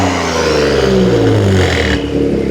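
A Nissan 400Z with straight-pipe exhaust and a single resonator gives a loud, close rev blip that holds for about two seconds, then drops back to a rough idle.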